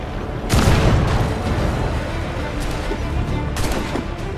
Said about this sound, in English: the swivel gun is very efficient.